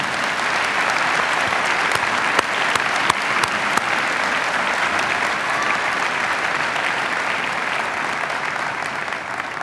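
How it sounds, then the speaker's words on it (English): A large commencement audience at Millersville University's winter ceremony applauds the faculty, a thick, continuous roar of clapping with a few sharper nearby claps standing out, loud and steady throughout. "Would you please give a round of applause to your faculty for all their efforts in getting you here."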